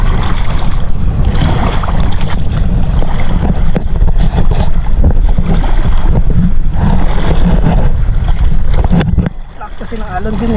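Loud, rough rush of waves and wind buffeting a fishing boat off Talisay and Laurel, Batangas, continuous and close, easing off near the end.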